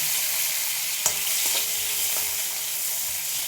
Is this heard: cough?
no